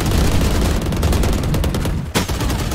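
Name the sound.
gunfire in the video game Valorant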